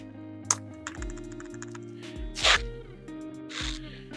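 Typing on an Ajazz AC100 1800-layout aluminum mechanical keyboard with double-shot PBT cherry-profile keycaps, giving a few close, sparse key clacks and a couple of brighter bursts with pauses between them, without talk.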